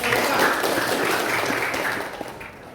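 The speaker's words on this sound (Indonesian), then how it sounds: "Oke, tepuk tangan." A classroom audience claps in a short burst of applause that is fairly loud at first and gradually thins out toward the end.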